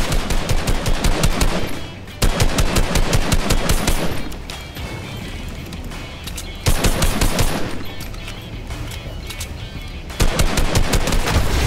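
Automatic gunfire from SCAR and SPAZ weapons in a video game rattles in loud, rapid bursts, separated by brief pauses and quieter stretches of shooting.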